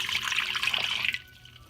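Water pours steadily into an Instant Pot for boiling eggs, a close, bright splashing stream lasting about a second before it stops and leaves near quiet.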